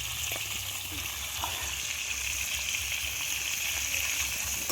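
Potatoes frying in oil in a pan for aloo kurma, a bright, continuous sizzle with occasional stirring scrapes, steady and close.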